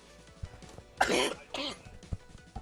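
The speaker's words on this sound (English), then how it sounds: "I have a little bit of a chesty cough at the moment" A person's chesty cough, a couple of loud, rough bursts close to the microphone with throat clearing and small breaths around them.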